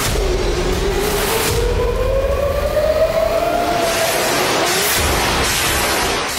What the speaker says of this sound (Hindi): इजराइल की राजधानी में एयर रेड अलर्ट के ये गूंजते हुए सायरन